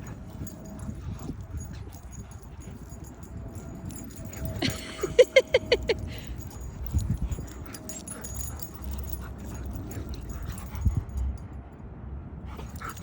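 A small dog gives a brief cluster of high, quick whimpering yips at close range amid a quiet household background, then falls mostly silent.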